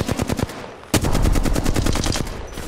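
Rapid bursts of video game gunfire, automatic weapon fire in a team shooter match, loud and close, with a brief pause before a sustained, dense volley of shots.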